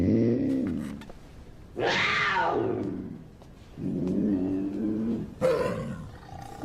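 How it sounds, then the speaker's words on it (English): A puma growls and snarls in several loud, close bursts, rough rising-and-falling roars separated by brief pauses, with no talk. "It's a puma."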